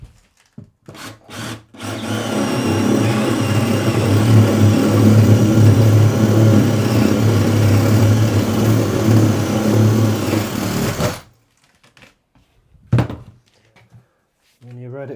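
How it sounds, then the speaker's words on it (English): Jigsaw cutting through the floor for a shower tray, a loud steady buzzing rasp lasting about nine seconds close by, then stopping, followed by a few knocks and thuds. "So that's ready to be jigsawed out."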